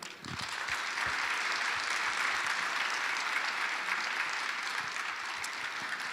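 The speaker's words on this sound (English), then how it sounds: "let's give a big round of applause to everyone" A large audience at an international education forum's closing ceremony gives a sustained round of applause, a dense, even wash of clapping holding steady throughout.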